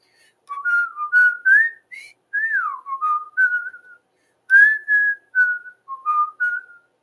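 A person whistles a melodic tune alone, a series of clear sliding notes in short phrases with brief pauses between them.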